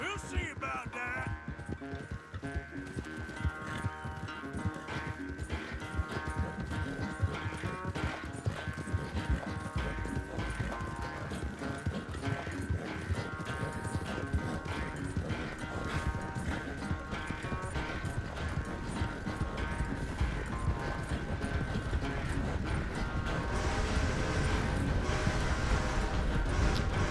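In the video game Red Dead Redemption 2, horse hooves beat in a quick, unbroken galloping rhythm for the whole stretch, close and prominent, with the game's music running underneath.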